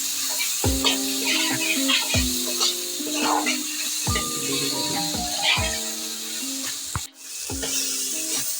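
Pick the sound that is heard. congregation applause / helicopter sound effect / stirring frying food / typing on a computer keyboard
stirring frying food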